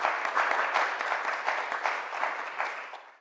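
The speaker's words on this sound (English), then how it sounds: "give another round of applause to this panel" An audience at an Office for Women workplace equity panel gives a round of applause, dense, fairly close clapping that holds steady and tapers slightly near the end.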